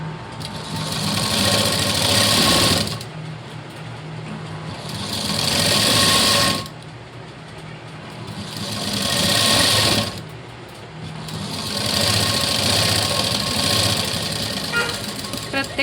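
Sewing machine stitching a lining cross strip onto a blouse, running in three long bursts of steady rapid whirring separated by brief pauses, close and fairly loud.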